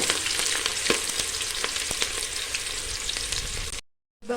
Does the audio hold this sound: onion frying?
yes